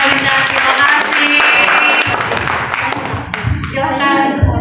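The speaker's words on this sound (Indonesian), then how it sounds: "Beri tepuk tangan untuk Aida." An audience applauds for Aida at a student testimony gathering, steady loud clapping from a crowd that fills the room with a voice faintly underneath.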